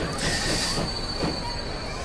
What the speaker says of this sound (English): Watching the train come in.